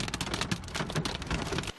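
Heavy rain and hail batter the streets of Ankara in a dense, close wash of impacts that pulses slightly and then cuts off abruptly.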